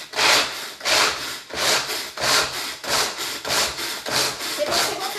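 A small motorized food chopper crushing hazelnuts whirs in repeated short bursts, about ten pulses with brief gaps, its rough grinding rattle close and fairly loud.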